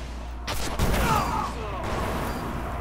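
Gunfire in an online video game, a short burst of shots heard close and fairly loud against a background hum.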